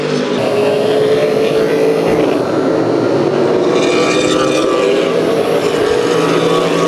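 Race cars on a track, a loud sustained engine roar from several cars running together, steady throughout with no pauses.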